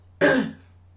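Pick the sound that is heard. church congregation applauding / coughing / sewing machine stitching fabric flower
coughing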